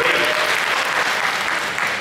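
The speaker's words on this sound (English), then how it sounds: "Give yourselves a big round of applause, please." An audience at a talk claps steadily in a dense, even wash of applause that lasts throughout, with no voice on top.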